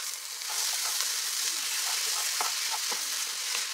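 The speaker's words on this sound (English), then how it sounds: "the beans are pretty much done frying when there's like no liquid left in the pan" Refried beans fry in a pan with nearly all the liquid cooked off, giving a close, continuous sizzle broken by small pops and crackles.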